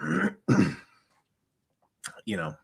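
A person coughs and clears their throat in a few harsh bursts from food caught in the throat, with a pause between them, close to the microphone.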